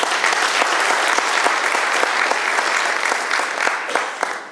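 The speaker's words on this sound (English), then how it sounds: "And I think they deserve an applause" Audience applause at a family planning health conference, loud and sustained, with crisp individual claps standing out from a thick wash of clapping throughout.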